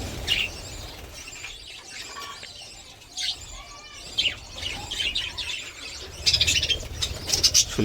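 Baby birds eating drumstick leaves give short, high chirps and calls in scattered bursts, some faint and some closer, with light fluttering in between.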